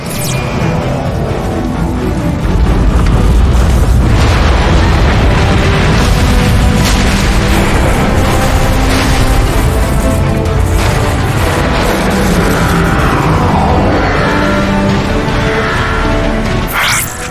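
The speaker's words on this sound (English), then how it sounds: "The neutron gun is activating!" A massive sci-fi neutron gun powers up and fires in the Transformers: Fall of Cybertron video game, heard as a long, loud, continuous roar of deep booms and crashing energy blasts with no talk.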